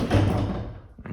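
A heavy solid-core barn door thuds and clunks as it is hooked onto its sliding track, a close, loud knock-and-scrape at the start, then quieter settling with a final light tap.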